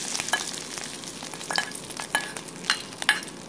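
Hot tempering for methi matar malai sizzles steadily in a pan, with a few sharp clinks of stirring, close up and without speech.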